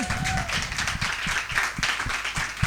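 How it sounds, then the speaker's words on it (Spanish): Studio audience applause on a Spanish talk show, a dense burst of clapping and cheering that fills the whole moment, loud and close, with a voice briefly talking over it. "Un aplauso."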